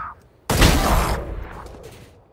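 A single loud gunshot in the tactical shooter Valorant, a sudden blast followed by a rumbling decay that fades over about a second and a half, with no talk over it.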